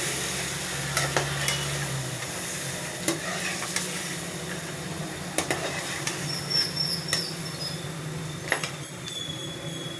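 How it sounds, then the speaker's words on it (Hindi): Onion paste with garlic and ginger fries in a pan, giving a steady low sizzle. Spoon scrapes and stirring clatter come through at intervals, growing busier toward the end. "अब इसमें डाल देते हैं ये 2 प्याज से जिनका मैंने पेस्ट बना लिया, वो शामिल करेंगे इसमें। अच्छी तरह डाल के इसको भून लेते हैं।"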